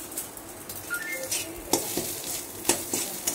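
Food seasoned with turmeric, salt and a little sugar frying in a wok, a close crackling sizzle broken by several sharp scraping stirs of a spatula against the metal.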